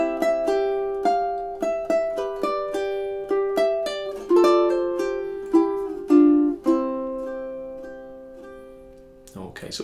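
Ukulele playing measures 7 and 8 of a song, a close, clean run of plucked notes and strummed chords with a syncopated rhythm, ending on a sustained ringing chord before a brief noise at the end.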